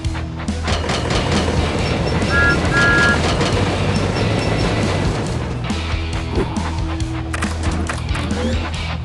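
Thomas & Friends Minis toy train, Construction Thomas, running on its track in an amusement-park playset: a loud, steady rattling rumble throughout, with a few brief chiming tones.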